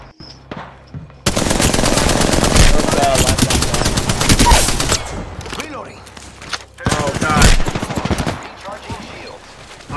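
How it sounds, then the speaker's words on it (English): Rapid automatic gunfire and fusillades from enemies shooting at the player in a video game, loud, dense bursts that run almost nonstop from about a second in, with a short lull before the firing resumes. "The enemies are shooting at me."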